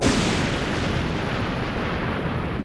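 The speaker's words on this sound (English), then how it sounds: "Or a volcanic explosion." Volcanic eruption roars as one sustained, loud, broadband explosive rumble that holds steady for almost three seconds, then cuts off abruptly, with no voices present.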